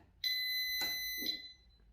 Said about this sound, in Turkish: Kumandadan alarmımızı kurduk